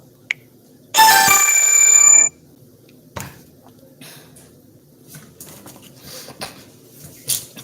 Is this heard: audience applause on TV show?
no